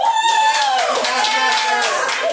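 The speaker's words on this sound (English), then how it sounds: "Round of applause." Dense clapping fills the space, with voices calling out over it in a lively, continuous burst.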